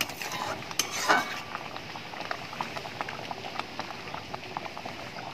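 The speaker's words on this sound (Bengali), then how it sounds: "এবার তুমি চিনিটা দিলাম, কিছুক্ষণ ফুটবে ঠিক আছে" Mango chutney with sugar simmering in a pan, a soft, steady bubbling and popping with a brief clink of a utensil near the start, fairly quiet and without talk.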